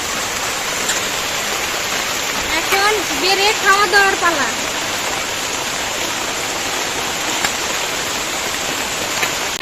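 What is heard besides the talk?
rain falling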